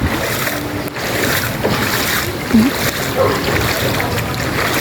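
Strong flood water current rushing around a submerged house, a loud continuous churning wash with gusty wind and faint voices.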